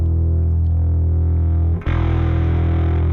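A low, sustained bass note through a Darkglass distortion pedal with a gritty overdriven tone, briefly cut and re-struck to a brighter, fuzzier distorted drive tone, loud and close.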